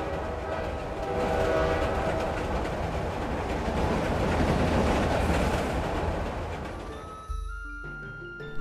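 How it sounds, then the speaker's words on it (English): A train rolls through the desert, its steady rumble and rattle of cars filling the scene loudly before the sound cuts away near the end, leaving distant hum and tones. "a ghost train can suddenly appear"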